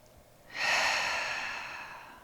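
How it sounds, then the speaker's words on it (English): A single long, breathy exhale pushed out through the mouth as a cleansing breath during a trauma-informed yoga session, close and soft, starting abruptly and fading gradually. "perhaps taking a big exhale out of your mouth"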